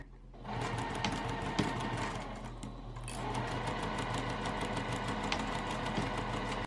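A sewing machine stitches a fabric drawstring bag at a fast, even clatter after a brief start, running continuously and close.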